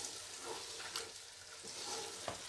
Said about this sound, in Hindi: तो यहाँ आलूओं को भूनेंगे